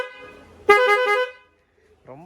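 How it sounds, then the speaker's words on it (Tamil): A loud horn on an SP 125 motorcycle gives one strong, harmonic blast of about a second. Talk comes before and after it. "ரொம்ப லவுடான ஹார்னு."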